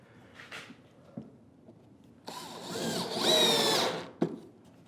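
Power driver whirring as screws are sunk into a wooden tool well add-on, a rising motor whine that builds and holds for about two seconds before stopping, with a few faint knocks before and a clack after.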